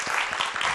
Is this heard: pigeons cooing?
no